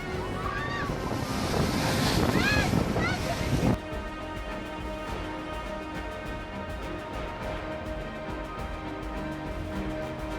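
Ocean waves surge loudly against a cliff, a heavy roaring rush of surf mixed with wind that builds for several seconds, then drops abruptly to a quieter steady wash.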